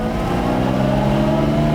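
A brand-new Lamborghini Miura S engine idles on light throttle, giving a steady, close, even drone with a smooth mechanical hum that holds level throughout, with no voices.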